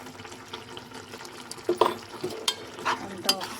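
A spoon stirs mushroom curry with garam masala in a pan, giving soft scraping and wet clinks over a low, steady sizzle, close and fairly quiet.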